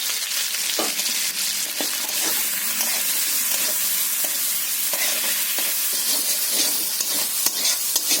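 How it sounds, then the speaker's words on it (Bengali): Prawns seasoned with salt and turmeric fry in hot oil, a loud, steady sizzle heard close up with occasional scrapes of a stirring spatula and no voices. "বন্ধুরা, আমার চিংড়ি মাছটা ভাজা হয়ে গেছে"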